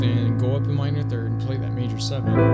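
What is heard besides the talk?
No distinct noise like a dog, phone or traffic.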